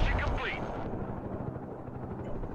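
A helicopter in the war video game Broken Arrow gives a low, continuous rotor rumble, with a brief rushing sweep at the start and scattered battle noise around it.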